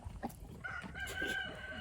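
Chickens clucking and crowing nearby, with a few short calls and a sustained tonal call, alone without talk.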